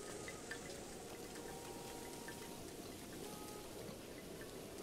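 Steady rainfall in the video game Breath of the Wild, a dense, even hiss of drops with faint patters, continuous and moderately distant throughout.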